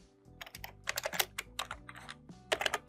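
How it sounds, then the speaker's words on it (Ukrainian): Keys pressed on a computer keyboard, including a Ctrl and Space combination, make a quick uneven run of crisp, close plastic clicks and taps with short pauses between them. "Щоб з'явився даний список з підказками, натисніть комбінацію клавіш Ctrl пробіл."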